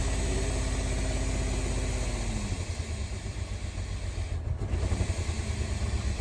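A car engine idling alone after being wired in, a steady low rumble with uneven pulsing that turns rougher and less settled partway through, close and continuous with no talk.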